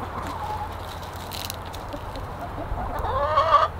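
Chickens cluck softly over a low background hum, with a louder run of clucking near the end; no one speaks.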